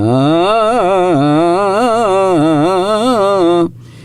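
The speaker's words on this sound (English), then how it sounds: "That's the sound of the shalsheles." A single voice chants the shalsheles Torah cantillation, a long, wavering melodic phrase rising and falling in repeated zigzag turns, loud and close, before stopping abruptly.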